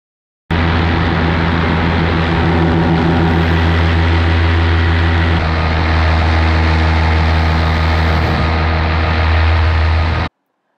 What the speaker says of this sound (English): see if we can hear any difference between each propeller